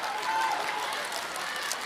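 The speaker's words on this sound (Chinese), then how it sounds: "不让鼓掌非得鼓，是不是" A theatre audience at a Deyunshe crosstalk comedy show claps in a dense, continuous burst of applause throughout, fairly loud and close, with voices mixed in.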